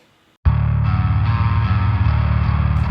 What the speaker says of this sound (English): My main bass track sounds like this.